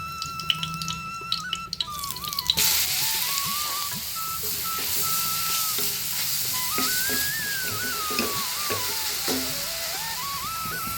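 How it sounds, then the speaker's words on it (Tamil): Grated carrot sautés in ghee in a kadai for carrot halwa, with a soft steady sizzle under repeated stirring and scraping and an occasional squeaky tonal slide from the spatula. "அந்த கேரட்டை அந்த நெய்யோடு சேர்த்து நல்லா வதக்கிக்குவோம்"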